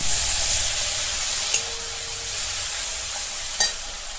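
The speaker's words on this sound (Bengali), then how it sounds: "দিয়ে ভালো করে এটা কষিয়ে নেব যত ভালো করে কষানো হবে বাটা মশলা তো তত খেতে ভালো হবে" A ground spice paste with salt and Kashmiri chilli sautés in a pan, giving a steady, loud close sizzle and hiss, broken by a couple of brief stirring scrapes.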